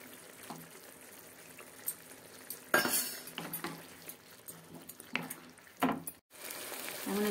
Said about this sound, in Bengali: এবার ডিমগুলো ফেলে দিই।